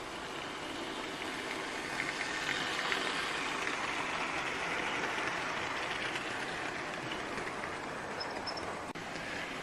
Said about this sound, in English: always a good idea to start off with the famous loco. 3717 City of Truro